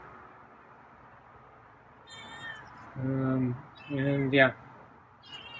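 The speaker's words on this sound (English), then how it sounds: "getting more meowy" A feral cat being fed turkey cat food meows twice, close and loud, the second call rising and more insistent, after a brief spoken word at a quiet moment.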